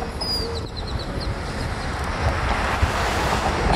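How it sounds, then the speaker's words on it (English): Wind blows outdoors on a breezy day, a steady rushing hiss with low microphone buffeting that swells slightly toward the end, with no talk over it. "today it's kind of windy, feels great"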